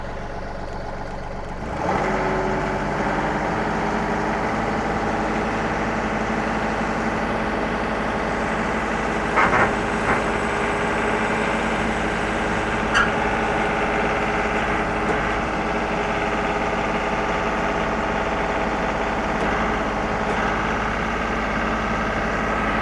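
A truck engine idles steadily at a stump-grinding job site, a continuous, even rumble that holds for the whole stretch with no voices.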